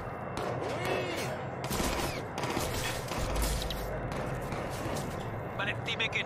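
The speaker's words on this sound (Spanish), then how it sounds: "Sí, son disparos, son cosa mía." Bursts of rapid gunfire crackle in the video game Watch Dogs 2, with mechanical clicks and clatter in between and a voice talking over parts of it.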